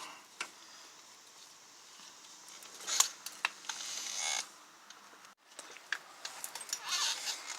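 Old rear brake shoe pulled off a 2012 VW Jetta drum brake: a few sharp metallic clicks and scraping rattles, then a longer grinding scrape near the middle, close and fairly quiet, with no talking.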